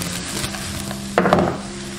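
Garlic sprouts stir-fried in a wok, a steady close sizzle with a few scraping clatters of the spatula tossing the greens near the middle.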